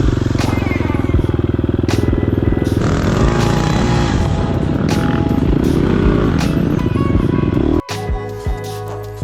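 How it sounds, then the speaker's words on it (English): An off-road racing motorcycle coasts along a trail with a steady, loud engine drone mixed with clattering chassis and terrain noise, ending in a sudden drop-off. "you can hear the bike. It's just kind of coasting through here"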